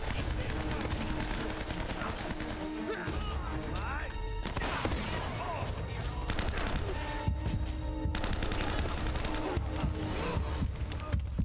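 Sustained video-game gunfire in Uncharted: Drake's Fortune, a dense, loud barrage of shots and explosions filling the whole stretch, with a player's voice talking over the action.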